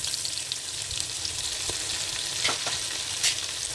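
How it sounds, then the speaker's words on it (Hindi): Beef pieces fry in ginger garlic paste for Kabuli pulao, a continuous close sizzle and crackle with a few brief stirring scrapes, steady in loudness and free of speech. "हमने अपने गोश्त को इसी तरह से पकाना है, गोश्त को भूनना है।"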